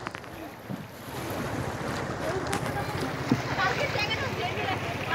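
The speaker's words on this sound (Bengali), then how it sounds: "নৌকায় চড়ে আমরা ঝর্ণার কাছে যাচ্ছি।" A boat travels over fast-flowing river water in Sylhet on the way to a waterfall near the Indian border, a steady close rush of water and motor under heavy wind buffeting the microphone, continuous throughout.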